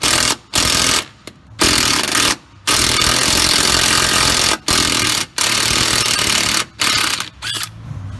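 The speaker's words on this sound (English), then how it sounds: "I usually just take the bolt out" Loud, continuous mechanical rattling and hammering, like an impact tool or air ratchet, running almost nonstop in long bursts with brief pauses, while a body ground bolt comes out of a Ford 6.0 diesel F-series truck during cab removal.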